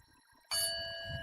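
A single bright notification bell dings once and keeps ringing as a clear, sustained tone after a soft low murmur.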